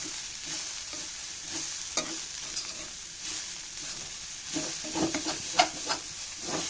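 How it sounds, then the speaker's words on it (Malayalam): Shredded cabbage and grated coconut frying in a pan while being stirred, soft sizzling under scattered scrapes and taps of a spoon against the pan, close and fairly quiet, with no talking. "നല്ല പോലെ നമുക്ക് ഇതൊന്ന് ഇളക്കി കൊടുത്ത് ലോ ഫ്ലെയിമിൽ ഒരു രണ്ട് മൂന്ന് മിനിറ്റും കൂടി വെച്ച് കൊടുക്കാം"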